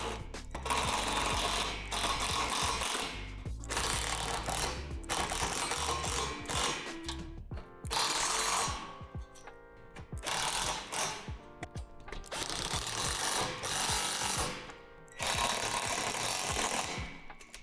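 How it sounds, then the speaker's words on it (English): Hardware is tightened with a power driver while assembling a Lifetime Big Stuff swing set, giving loud, close bursts of mechanical whirring and ratcheting separated by short pauses. "go ahead and tighten the hardware."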